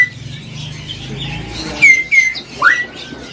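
A black Papuan butcherbird gives a few clear, loud whistled call notes at a busy bird shop, the calls coming as short separate phrases after a quieter, muffled opening.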